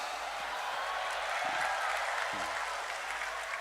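Steady applause from an audience at a religious talk by an Indonesian preacher, a dense, even patter of clapping that holds for several seconds with a faint voice beneath it.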